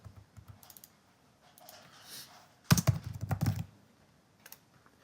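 Quick bursts of computer keyboard typing with a dense flurry of keystrokes near the middle, plus a few scattered taps before and after, close and fairly quiet.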